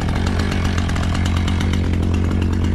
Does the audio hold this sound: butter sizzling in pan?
no